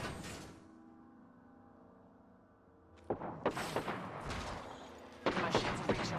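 Gunfire in the Apex Legends video game, a burst of sharp shots that starts after a quiet stretch and then returns as another close, loud volley.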